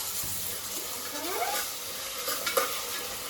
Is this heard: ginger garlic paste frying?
yes